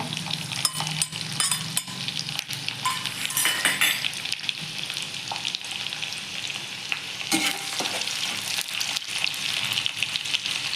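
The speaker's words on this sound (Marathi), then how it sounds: "लसूण आलं चांगलं भाजलेलं आहे" Garlic and ginger sizzle steadily in a hot pan for a Marathi-style dal palak, a continuous loud frying hiss broken by clinks and scrapes of a utensil stirring against the pan, with no voices.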